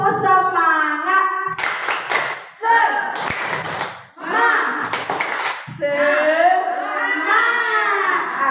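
A group of teachers and parents doing rhythmic 'tepuk semangat' clapping in a classroom-style session, with bursts of claps alternating with shouted voices and chanting.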